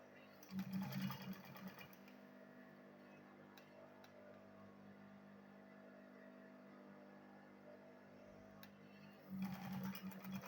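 A sewing machine stitches a purse in two short bursts, one at the start and one at the end, with a quiet steady hum in between, close but soft.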